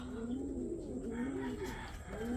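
Racing pigeons that have just landed on a roof give soft, rolling coos, repeated several times at low volume against a faint background murmur.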